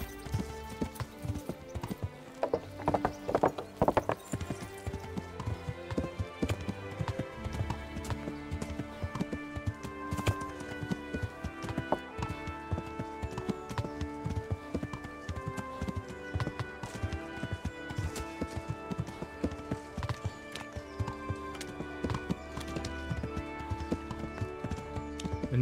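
Horse hooves clip-clop in a steady gait in the medieval video game Kingdom Come: Deliverance, running beneath a constant layer of music and game sound, with an occasional faint whinny.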